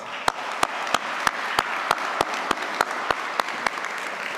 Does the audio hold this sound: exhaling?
no